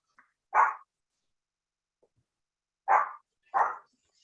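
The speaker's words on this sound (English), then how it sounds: "my dogs are barking" Dogs at home bark in three sharp, separate woofs, close and fairly loud against a quiet room, with long silent gaps between the first bark and the quick pair near the end.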